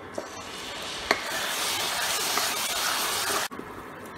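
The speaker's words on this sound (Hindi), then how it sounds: "ये हम इसमें भूनेंगे इसको" Spoon stirring ground onion, ginger and garlic paste frying with cumin in a pan, a close, continuous scraping rub over a dense sizzle, with a few small clicks and a brief dip near the end.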